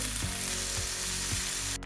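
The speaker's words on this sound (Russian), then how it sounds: "На горячую сковородку наливаем растительное масло, отправляем наш лук, жарим до легка золотистого цвета." Onion sizzles in vegetable oil in a hot frying pan, a steady bright crackle broken by a few soft stirring bumps, close and continuous with no talk.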